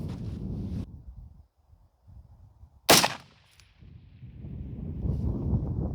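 A single sharp rifle shot at a steel target cracks out mid-clip, standing out against steady wind noise and low rumble before and after.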